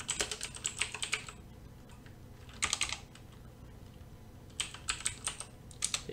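A computer keyboard is typed on in short, quick bursts of close, crisp key clicks, with pauses between the runs of keystrokes as a command is entered.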